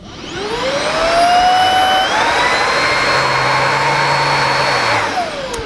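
A Shark Anti Hair Wrap cordless stick vacuum cleaner in turbo mode spins up, holds a loud steady whine with a rising motor pitch for several seconds, then winds down at the end.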